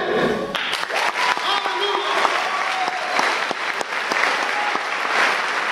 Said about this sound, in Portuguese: Se for aplaudir Jesus, aplaude direito.